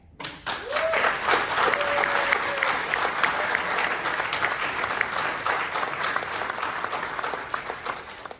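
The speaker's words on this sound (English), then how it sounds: "you all been cheering and making noise" A debate audience bursts into sustained applause with scattered cheers and whoops after a speech about socialist independent politics, dense clapping filling the room steadily for several seconds and slowly thinning toward the end.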